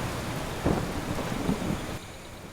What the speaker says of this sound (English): I don't want to be out in the middle of the storm.